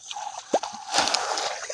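Water from a garden hose aimed at plant roots plops and drips in a few distinct splashes, with one clear drop near the start and a steady wet trickle underneath, close and moderately loud.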